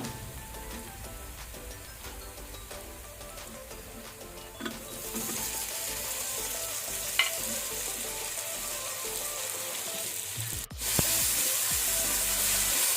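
Tomatoes fry in a pan with ginger and garlic, a steady crackling sizzle throughout with occasional scrapes and knocks of stirring, growing louder and brighter partway through.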